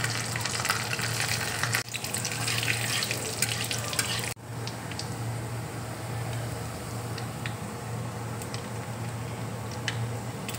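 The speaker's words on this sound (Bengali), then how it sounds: "এবার আমি সর্ষে ফোড়ন দিচ্ছি" Mustard and cumin seeds sputtering in hot oil in a wok, a dense steady crackle and sizzle that carries on throughout, with scattered sharp pops and no talk.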